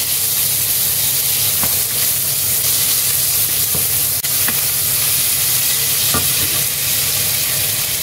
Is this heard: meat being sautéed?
yes